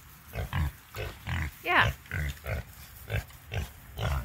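Pigs grunting in a barn pen with fresh bedding, a series of about ten short, low, rhythmic grunts close by, one rising squeal in the middle and a brief spoken word.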